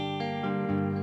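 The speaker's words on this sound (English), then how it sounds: "this is about a cleanish kind of a guitar tone," A cleanish Telecaster electric guitar with a touch of overdrive plays a brief phrase of two or three sustained notes, rich in harmonics and heard alone.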